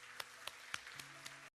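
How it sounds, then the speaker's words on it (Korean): Church congregation giving a brief round of applause during a worship service, a soft, faint patter of clapping with a few sharper claps standing out before it cuts off abruptly. "우리 하나님께 감사와 영광의 박수를 드리겠습니다."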